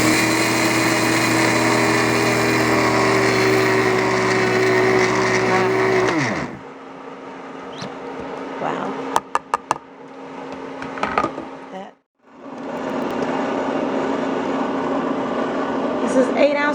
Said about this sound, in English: For the next few steps, we're going to use our melanger, and it does the same thing as our mini grinder.